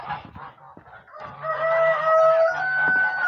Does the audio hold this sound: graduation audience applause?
no